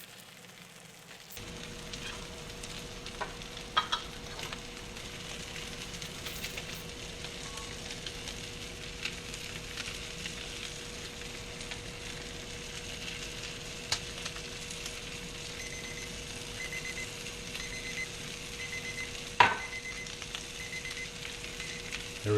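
Pork chops searing in a hot pan give a steady, close sizzle that starts abruptly and holds constant, with occasional small clinks and pops over the frying hiss.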